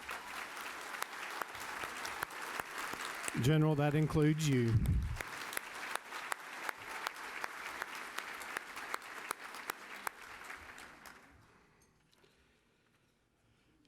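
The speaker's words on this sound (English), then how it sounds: "Everybody join me in a round of applause for them" Audience applause at a Bay County Chamber annual dinner and awards ceremony, steady clapping running through most of the stretch under a speaking voice, then fading out near the end.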